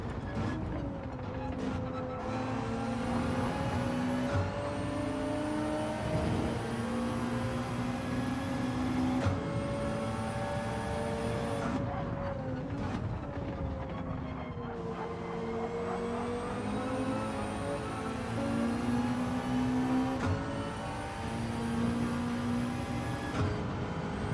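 McLaren race car engine in Gran Turismo 7, a steady droning engine note rising and falling in pitch through gear changes and corners, held at moderate level for the whole stretch with no talk.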